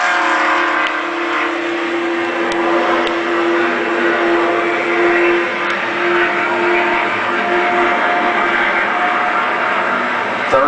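NASCAR stock cars roaring around Talladega Superspeedway during a 2009 race, a loud sustained engine drone that swells and fades slightly as the pack passes, heard from a distance through the broadcast.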